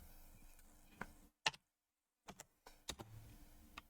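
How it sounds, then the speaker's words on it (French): Typing on a computer keyboard while entering Python code, a few sharp separate key clicks with quiet gaps and a short silence between them, close and fairly faint. "je tape 2 égal égal"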